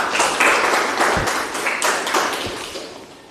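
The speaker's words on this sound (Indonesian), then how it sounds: "tepuk tangan buat kita semua." Students clapping in an Islamic religious education classroom lesson, a brief burst of many hands that fades over a few seconds, with a couple of thumps and some background noise from the room.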